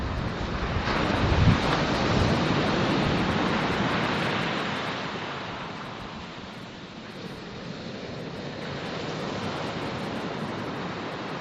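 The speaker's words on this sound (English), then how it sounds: "The waves are relaxing, yeah, fully." Ocean surf breaks on the shore in a steady, rolling wash, with one stronger crash near the start and constant wind buffeting the microphone. No one speaks.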